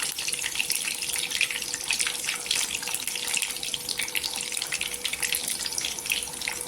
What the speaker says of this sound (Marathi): कढईमध्ये तेल ठेवलेलं आहे तेल वगैरे गरम झालेलं आहे एक पीस सोडा दोन पीस सोडा